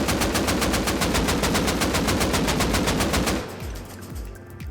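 An AK rifle fires in the video game Rust in one long, loud, rapid automatic burst of evenly spaced shots. The burst stops abruptly and leaves a quieter tail.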